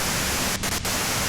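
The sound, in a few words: white noise static in video game Disco Elysium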